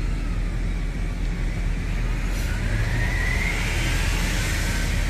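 Road traffic crawls past near a stadium on a FIFA World Cup match day in New Zealand, forming a continuous dense roar of car engines with no clear breaks.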